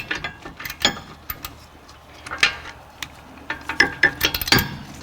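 A ratchet wrench clicks rapidly while loosening 17mm bolts on an Acura MDX rear knuckle during a wheel bearing replacement, in close, uneven bursts of ticking with short gaps between strokes.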